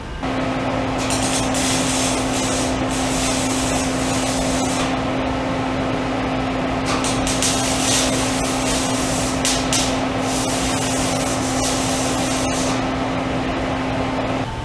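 A welder lays tack welds on a 7.3 Powerstroke straight pipe exhaust, a continuous loud crackling hiss with a steady electrical hum underneath and several brief bursts, running unbroken for around fourteen seconds.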